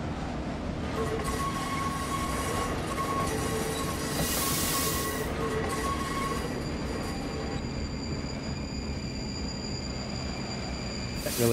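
Train simulator game, a freight train with railroad cars on a California trolley line, rolls past steadily and loudly, with wheels squealing and rail noise filling the whole stretch, and no talking.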